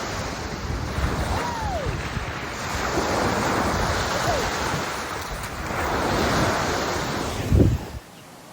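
Surf washing onto the shore at Barrow Secret Beach, a steady broad roar of breaking waves under strong wind buffeting the microphone, with a brief louder gust or thump near the end.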